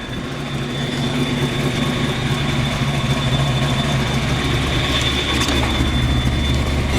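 A 1986 Ford Mustang GT V8 idles steadily while warming up, a continuous low rumble with a faint high whine, close and unchanging throughout with no talk.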